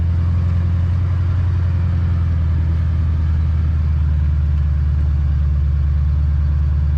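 A vehicle crawling in two-wheel drive along a snowy road, a steady loud low engine drone and rumble with no change in pitch, heard from inside the cab.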